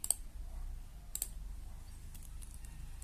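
Computer keyboard keys pressed for a Ctrl+C copy command, with a few sharp, quiet clicks spaced out over a low steady background hum and no speech.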